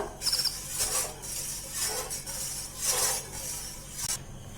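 A spoon stirs milk and cornflour thickening into pudding in a pan, making rhythmic scraping swishes about once a second over a low background hiss.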